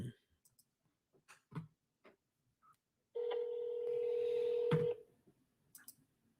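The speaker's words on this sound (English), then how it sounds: "Put on speaker and see if they pick up the phone." A phone call is placed on speakerphone: a run of short dialing beeps and clicks, then a steady tone lasting about two seconds before fading into quiet room noise.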